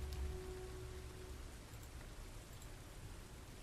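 Steady rain in The Last of Us on PC, a constant broadband hiss of falling water with a low rumble underneath, no voices.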